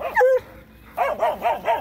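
A puppy gives a short whiny yelp, pauses, then lets out a quick run of four or five high, yappy barks close by.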